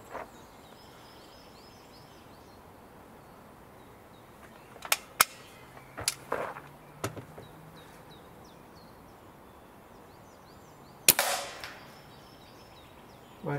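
A rifle is fired outdoors during a bent-barrel accuracy test, giving a few sharp, distant cracks spread across a quiet field, with one louder report near the end.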